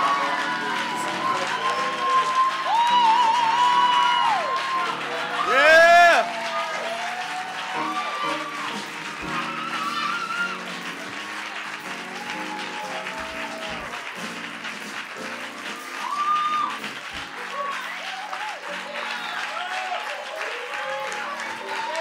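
Sustained audience applause and cheering at an awards ceremony as the Best Solo Performance winner is announced, a dense crowd roar with a loud swell early on that settles into steady clapping, with voices mixed through it.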